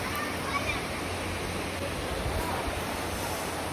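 Waterfall in Malinao pours as a loud, constant broadband rush of falling water, close by and filling the whole clip with no pauses.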